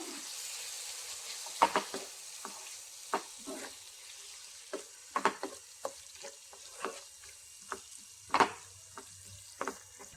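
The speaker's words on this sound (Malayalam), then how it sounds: "എന്നിട്ട് ഇതെല്ലാം കൂടി ഇളക്കി കൊടുക്കാം" A spoon stirs a Kerala fish curry base with tamarind water in a pan, producing sparse, faint scrapes and clinks in irregular bursts over a quiet background.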